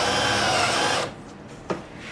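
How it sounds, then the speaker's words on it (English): Power drill boring into copper to make battery terminals: a loud, close whine for about a second, then it cuts out, leaving quiet with a single faint knock. "I'll set this on here, put some weight on it, and drill."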